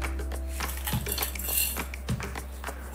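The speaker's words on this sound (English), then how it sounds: "So I'm going to dry roast these spices." Kashmiri and byadgi chilli spices dry roasting in a pan, heard as a few light metallic clinks and scrapes of a utensil against the pan over a soft steady hum.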